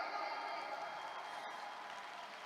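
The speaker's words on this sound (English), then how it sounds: "Can we all give ourselves a round of applause today?" Applause from a large audience at a RIWAY International corporate event in the Philippines, a steady, even wash of clapping that holds at a low, distant level for the whole stretch with no voices over it.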